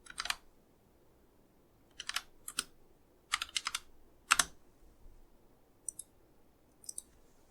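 Keys click on a computer keyboard in short scattered clusters with pauses between them, close and quiet, with no one speaking.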